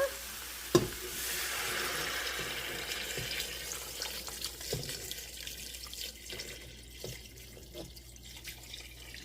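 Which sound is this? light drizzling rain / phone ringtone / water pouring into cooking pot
water pouring into cooking pot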